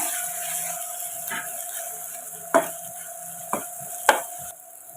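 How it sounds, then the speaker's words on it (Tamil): Mutton masala with turmeric powder is sautéed in a pan for Tamil mutton curry, giving a steady low sizzle broken by three sharp spoon scrapes and clinks against the pan, close and alone without talk. "இதை வடக்கி எடுத்துக்கோங்க"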